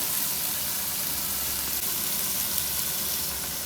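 Samosa filling fries in a pan with a steady, loud, dense sizzle that holds unbroken from start to finish, with no talking.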